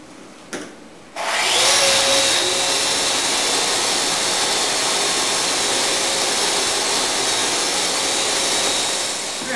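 Power sander working wood planks for a fireplace mantel, a loud steady whine that kicks in after a brief bump and holds constant for the rest of the stretch, close and alone with no talking.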